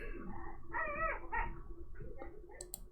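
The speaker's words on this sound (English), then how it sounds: "it's Arrow's turn to bark at Bow" A dog whimpers and whines in high, wavering yelps, then lets out a few short, sharper barks, fairly close and alone with no talking.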